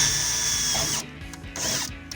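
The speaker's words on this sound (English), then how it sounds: "next you're gonna take your drill, go ahead and center it on each of these holes. Just get a pilot hole started." A power drill bores pilot holes for a wheel well storage box in a 2005-2023 Toyota Tacoma, whining loudly and steadily, then pausing briefly and starting again.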